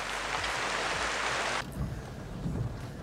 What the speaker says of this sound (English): The rain's not gonna stop.